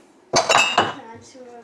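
Dishes and cutlery clink and clatter in a few quick bursts during household cleanup, fairly close and loud, then fading; a voice is faintly present.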